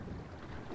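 Wind blows steadily across Mille Lacs lake during a fishing outing, a constant low, buffeting rush against the microphone with no talking.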